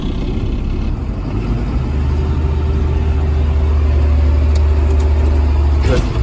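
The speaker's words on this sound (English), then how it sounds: "This tractor starts at 5 in the morning and usually runs till about noon." A tractor engine drives a feed mixer spinning 16,000 pounds of feed at under 650 RPM on a 400-cow dairy farm, a loud, steady low rumble with a faint mechanical whine running throughout.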